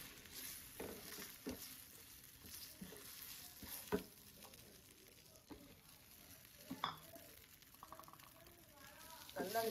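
Mini idlis get stirred and tossed with podi in a pan on low heat, a quiet sizzle broken by irregular scraping and knocking of a spoon, with a voice talking softly now and then.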